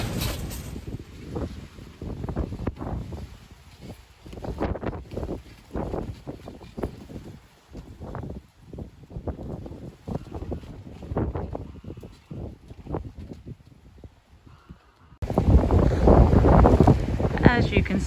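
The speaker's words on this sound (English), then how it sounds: "it is incredibly windy in Norfolk this morning" Strong wind buffets the microphone on an allotment in Norfolk, roaring and gusting throughout in broadband rushes, then surging much louder near the end.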